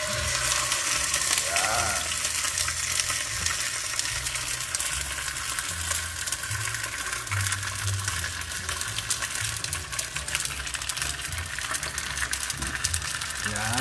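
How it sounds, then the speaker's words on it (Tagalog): Pork leg (pata) frying in hot oil, a steady, dense sizzle and crackle running continuously at moderate level with no breaks. "Kaya ako na muna magpiprito."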